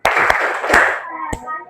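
Schoolchildren in an Islamic primary classroom clap a short rhythmic going-home pattern: a few sharp, close hand claps with children's voices chanting between them.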